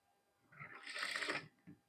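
A jack industrial sewing machine stitches fabric in one short, fast run of about a second, with the presser foot worked by leg, then stops with a faint clunk.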